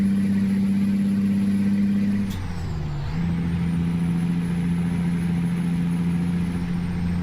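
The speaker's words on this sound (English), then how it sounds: "Oh, that truck just sounds so sweet," A heavy truck engine in American Truck Simulator drones at a steady low idle, briefly dipping around a short hiss like an air brake release before settling back into the same even rumble, up close with no talk.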